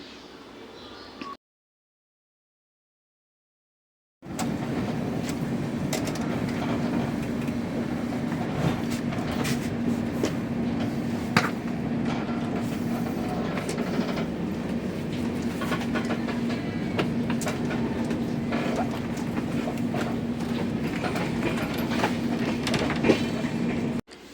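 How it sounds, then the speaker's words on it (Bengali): A train rolls into the station at Cooch Behar, heard from inside an almost empty passenger compartment: a steady, loud rumble and drone of wheels on rails with occasional clacks, after a brief silence at the start. "ট্রেন স্টেশনে ঢুকে গেছে"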